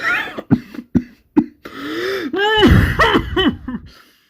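A person coughing and gasping in a series of harsh, close bursts, followed by wheezy, strained breaths and throat sounds.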